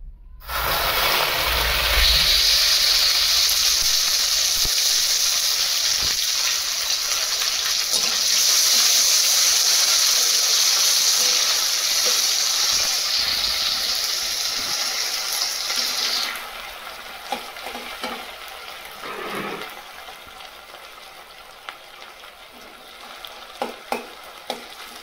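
Chopped tomato hitting hot oil with bay leaf in a pan, a loud burst of sizzling that holds steady for about fifteen seconds, then drops to a quieter crackle with scattered utensil knocks.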